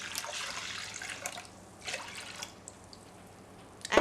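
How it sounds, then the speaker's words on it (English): Warm water poured into a mixing bowl of yeast for no-knead rye bread, a soft, faint splashing trickle with a few brighter bursts of pouring, and a sharper clink near the end. "So into that add the warm water"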